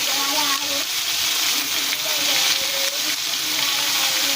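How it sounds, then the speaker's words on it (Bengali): Vegetables sizzle steadily over low heat in a kadai with a light sprinkle of salt, a continuous bright frying hiss with faint scrapes of stirring, close and even throughout. "সবজিগুলো একটু আস্তে আঁচেতে ভাজতে হবে"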